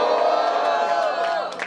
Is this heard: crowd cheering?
yes